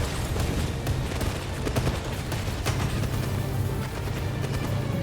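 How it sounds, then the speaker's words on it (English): Automatic gunfire in the game 007 First Light, heard as a dense, continuous barrage of rapid shots and booms, loud and close throughout, with no talk over it. "there's an auto fire, you can just hold button for it"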